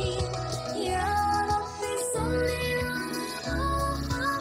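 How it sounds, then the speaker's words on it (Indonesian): A violin voice played on a keyboard carries sustained melodic lines through a song, over steady percussion hits and a full, continuous arrangement. "dan ini suara biola"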